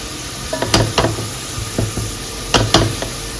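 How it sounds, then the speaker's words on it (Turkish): Steady sizzle of minced meat frying in a pan, broken by several sharp clinks and scrapes of a utensil stirring against the metal. "Kıymam güzelce bir kavrulsun."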